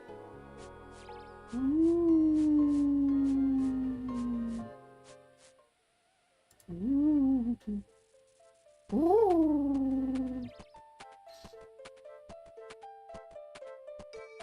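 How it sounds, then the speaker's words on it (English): A cat in the game Old School RuneScape gives three drawn-out, rising-and-falling meows over gentle tonal background music. "What a fucking juicer cat."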